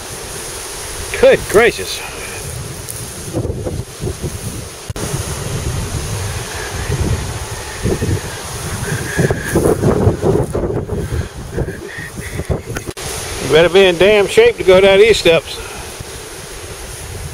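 Waves on the James River below a long flight of steps near Hopewell, Virginia, on a gusty day: a broad steady wash of surf and wind rumble, with someone talking at times and wind buffeting the microphone.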